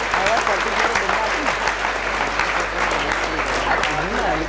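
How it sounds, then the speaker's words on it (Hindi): Loud, sustained clapping from a crowd fills the room while voices speak and call out over it. "एक बार जोरदार तालियां उन सभी कार्यकर्ताओं बच्चों के लिए"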